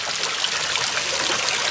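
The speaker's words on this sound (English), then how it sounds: "that's the amount of water that's flowing in from the filter system" Water pouring steadily from a homemade bio filter system into a koi pond, a continuous close, loud broadband splashing and trickling rush with no pauses and no voices.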